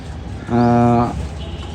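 A young Ferozepuri Teddy pigeon, bred for tournaments, gives a single loud, close, resonant coo lasting about half a second, between quieter stretches of room noise.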